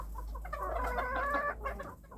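Bantam chickens and several young roosters cluck in a steady, overlapping chatter close by, with no one talking.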